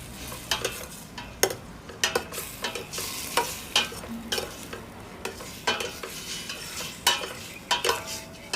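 Soy sauce and vinegar are stirred into Bicolano-style chicken adobo in a sizzling pan, with repeated scraping and clattering strokes over a steady frying hiss, close and moderately loud, with no talking.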